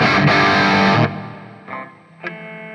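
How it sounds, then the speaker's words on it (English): A burst of distorted electric guitar through a Plexi amp model on a NUX MG-30 modeler rings out loudly, then cuts off, followed by two shorter, quieter strums that fade out. "this is the Plexi, the Plexi amp that I was basing my sound off of"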